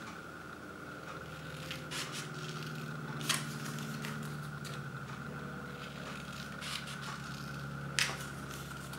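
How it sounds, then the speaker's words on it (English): Scissors snipping into card, a few sharp crisp cuts standing out over a quiet, steady background hum. "So then we just snip down each of the diagonals."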